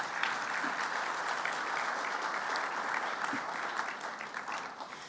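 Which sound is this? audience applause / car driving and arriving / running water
audience applause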